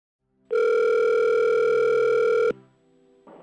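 A steady telephone dial tone before a phone call starts abruptly, holds loud and unbroken for about two seconds, then cuts off, leaving a faint hum and a brief soft sound at the end.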